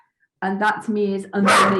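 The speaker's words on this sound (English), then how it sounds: "Oh, that's the dog." A dog barks and yips a few times, close and loud, mixed with someone talking over it.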